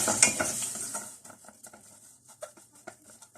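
Vermicelli frying in oil, a crisp sizzle that is loud at first and then settles into scattered crackles and pops while the strands are stirred, with a few light utensil clinks.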